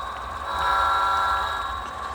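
An HO scale Union Pacific freight train sounds its horn approaching a grade crossing, a sustained steady horn tone held over a low rumbling rail noise for a couple of seconds.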